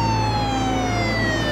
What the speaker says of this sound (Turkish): Bir ambulans daha.